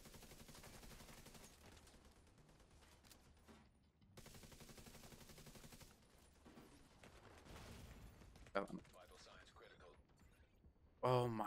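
Rapid automatic gunfire in The Division 2 as a player shoots down an enemy turret, delivered in sustained bursts with brief pauses and a sharp loud crack near the end.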